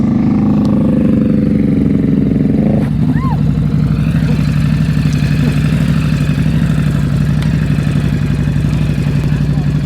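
A motorcycle engine idles and putters steadily through slow-speed riding practice, a continuous loud, close mid-pitched drone with a brief rev near the start, under intermittent voices.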